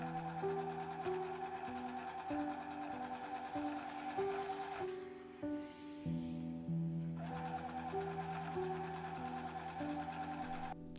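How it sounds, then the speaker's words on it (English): A sewing machine stitches fabric hat crown pieces for a reversible sun hat, running in a steady whirring drone, briefly pausing midway, then resuming, close and alone. "Sew one side of a pair of crowns right sides together."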